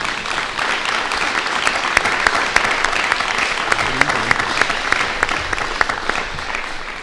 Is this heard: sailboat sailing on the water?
no